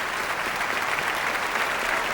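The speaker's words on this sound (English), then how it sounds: "Mr. Watts is being cheered by the gala audience here in the Academy of Music." Gala audience at the Academy of Music applauding a pianist at an orchestra's birthday gala, dense sustained clapping from a large crowd, even and unbroken from start to finish.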